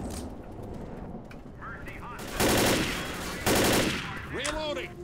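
Rapid bursts of gunfire from the video game Left 4 Dead crackle in dense volleys, mixed with game effects, while players talk over it.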